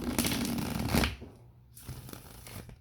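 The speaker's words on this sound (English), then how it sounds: "I have shuffled this deck since opening it, but I shall shuffle it some more" A deck of cards riffled and shuffled close up, a quick burst of crisp flutter followed by softer, shorter shuffles.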